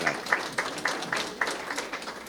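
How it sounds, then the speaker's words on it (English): Modest applause at an evening neighborhood planning meeting honoring school kids, a small group clapping in a brisk, fairly even rhythm, moderately distant and soft. "A little round of applause for the Rock Point School kids for being here"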